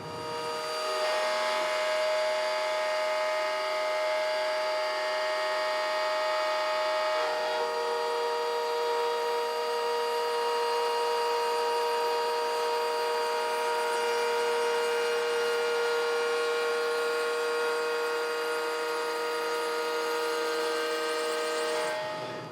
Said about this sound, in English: while we still have the router table set up, we've just put in our round over a bit